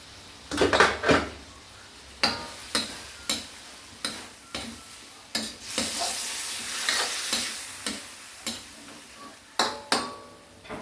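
Vegetables and other ingredients for pinakbet sizzle in a hot pan, a continuous fry broken by repeated sharp scrapes and clinks of a utensil stirring against metal, close and with no voices.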